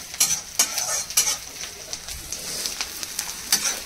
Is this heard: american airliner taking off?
no